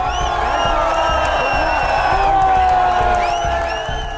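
Large protest crowd at Jantar Mantar in India: a loud, dense roar of many voices, with shouts and whoops rising and falling together, close and continuous throughout.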